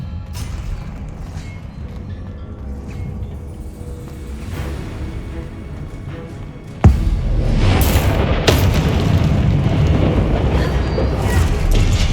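Fiery Confringo and Incendio spell blasts in the Hogwarts Legacy video game, a sharp booming impact followed by sustained roaring, crackling bursts and further hits over a dense low rumble of game sound.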